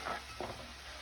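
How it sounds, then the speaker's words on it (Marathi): Ginger, garlic, chili and coriander paste sautés with onion in a quiet, soft sizzle, with two brief stirring scrapes near the start; faint and without voices. "ही पेस्ट ती आपल्याला कांद्यामध्ये छान अशी परतवून घ्यायची आहे"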